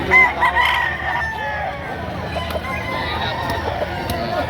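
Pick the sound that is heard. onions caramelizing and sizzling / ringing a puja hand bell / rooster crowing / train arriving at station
rooster crowing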